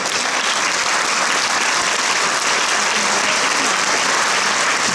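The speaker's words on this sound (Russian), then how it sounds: "мы тебе тоже благодарим тебя и аплодируем." Audience applause at a St. Petersburg theatre award ceremony, the Golden Soffit prize: a continuous, loud, dense wash of many hands clapping from a large hall, steady throughout with no clear speech on top.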